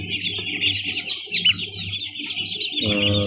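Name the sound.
day-old chicks chirping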